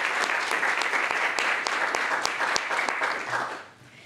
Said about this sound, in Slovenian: Tako da dajmo en aplavz.